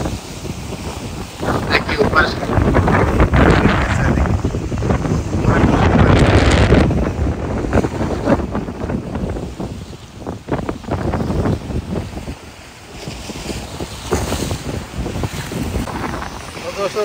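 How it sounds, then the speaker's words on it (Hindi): Strong wind and rough waves at sea on the Croatian coast between Zagreb and Zadar, with loud continuous roaring wind gusts and crashing water for the whole stretch, easing briefly midway before building again. "आज बहुत तेज़ हवा चल रही है, बहुत तेज़ लहरें आ रही हैं"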